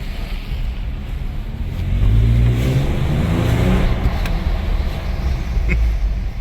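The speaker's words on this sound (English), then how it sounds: "Pop it all the way into low. Keep it in first. Maybe make it make a little noise for you." A Toyota FJ Cruiser, held in first gear while heading downhill, gives a deep, loud engine drone that rises into a stronger rev after a couple of seconds and then holds steady close by.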